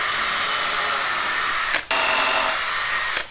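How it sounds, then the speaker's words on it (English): A power drill whirs at high speed drilling pilot holes in a door while installing a keypad lock, cuts out briefly, then runs again before stopping, close and loud with no talking. "I'm gonna take my drill and drill some pilot holes."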